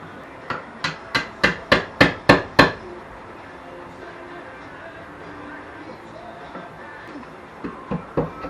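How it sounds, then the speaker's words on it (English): A small chisel is struck to chip off old rotted material, giving a quick run of eight sharp, evenly spaced knocks that grow louder, then a pause with faint handling noise before three more blows close by. "I'm just going to use this small chisel, maybe, and just break off some of this old rotted crap here."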